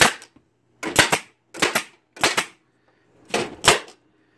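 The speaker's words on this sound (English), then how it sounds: "Now we got the nail gun." Nail gun fired at a scanner, five sharp, loud, close bangs in quick succession, some coming as rapid doubled cracks, with brief silences between them.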